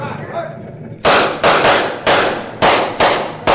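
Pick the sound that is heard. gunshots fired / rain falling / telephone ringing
gunshots fired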